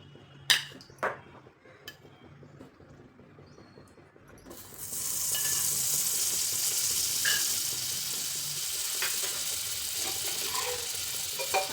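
Clicks and light clatter at first, then a bright, steady sizzle of butter in a hot kadhai (wok) that keeps going, crackling now and then.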